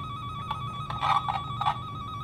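A cable tester tone heard through a probe on data cabling, bleeding over between jacks: a faint electronic warble with intermittent chirps over a steady hum and background noise.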